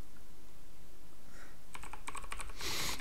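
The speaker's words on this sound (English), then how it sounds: "somebody's loudly typing to demonstrate their new keyboard." Loud typing on a new computer keyboard comes in as a burst of quick, sharp key clicks near the end, building into a dense flurry over steady background noise.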